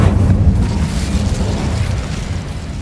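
An Incendio fire spell going off in a video game, a loud, deep rumbling blast that begins at full strength and slowly fades as it rolls on, with no voices over it.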